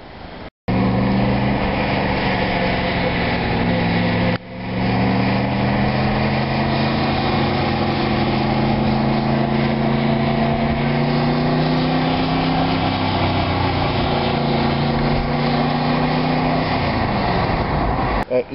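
Allard J2-style car powered by a Cobra 289 V8 engine, a steady loud engine drone running almost continuously as the car drives, with a brief dip early on and rising pitch toward the end.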